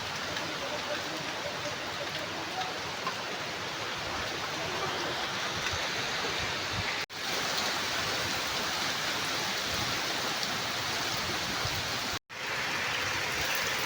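Heavy rain in a strong storm, with rooftop plants tossing in the wind. A steady, dense roar of rain and wind runs loud and unbroken throughout, with two brief drops in level.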